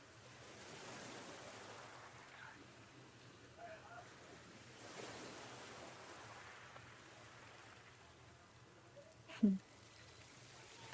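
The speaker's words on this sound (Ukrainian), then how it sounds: "А шум моря чуєш?" Soft, steady wash of sea surf with wind noise, faint and distant, heard on Laoshan mountain near Qingdao, China, with a brief louder knock near the end.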